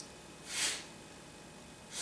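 Forceful nasal inhalation during a yoga breathing exercise, heard as a loud, airy rush of breath around the middle, with a second intake starting near the end; otherwise quiet, no talking.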